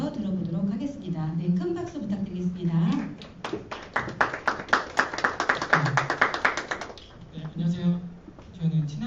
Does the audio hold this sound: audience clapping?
yes